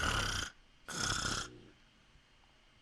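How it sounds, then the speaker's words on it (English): A dog snores nearby with two long, raspy breaths in quick succession, then the room settles into faint quiet. "if you hear my dog snoring in the background"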